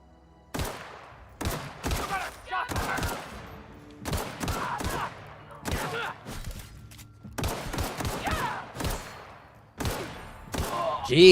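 Pistol gunshots in the video game Outer Worlds, a series of sharp, loud cracks fired in quick pairs and clusters at close range with short gaps between volleys.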